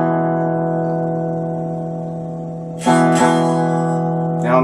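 Cigar box guitar plays the opening of a song: a sustained droning note rings for a few seconds, then a slide into a chord struck twice, close and clear with no voices.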